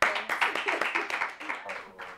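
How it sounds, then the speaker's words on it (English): An audience claps in a steady run of quick hand claps at a casting-couch music event, fairly close and lively, with no speech over it. "Y'all clap."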